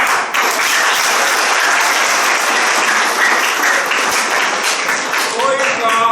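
A large group of children at an indoor gathering claps in a loud, sustained round of applause, with scattered voices mixed in near the end.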